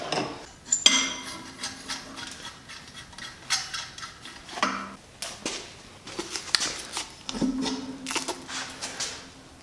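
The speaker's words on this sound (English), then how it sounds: "I should move this oil pan now." A metal engine oil pan is shifted around during a Toyota Supra engine teardown in a garage, giving a series of close, uneven metallic clanks and scrapes with short gaps between them.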